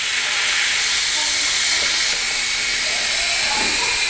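Steam hisses loudly and continuously from a pressure cooker being opened after cooking soup, a broad steady rush filling the whole stretch, with faint clanks near the end.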